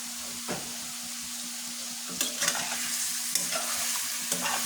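Chicken fries in oil with a steady sizzle while a utensil stirs and scrapes the pan in a few sharp, close strokes.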